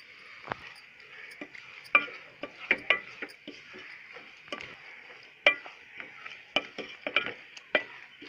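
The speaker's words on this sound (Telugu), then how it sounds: "బాగా చిక్క పడేంత వరకు ఇలా కలపెడుతూనే ఉందాం।" Grated fresh coconut stirred into thick, stringy sugar syrup in a pan over medium flame, with irregular soft scraping and tapping of a spoon against the pan, close and quiet, with a faint sizzle beneath and no talk.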